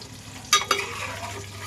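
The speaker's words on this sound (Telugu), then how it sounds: "మంచిగా ఫ్రై చేసుకున్నా ధనియాలు ఇలా ఎర్ర కావాలి" Coriander seeds being stirred as they dry-fry in a pan for an egg curry masala, with two sharp scraping strokes against a steady low sizzle.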